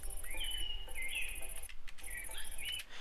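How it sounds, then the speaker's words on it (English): Bird chirping ambience in a modded Minecraft world (Create modpack): repeated bright, close tweets in short phrases over a faint insect-like hum, with no talking. "I need to turn those birds down"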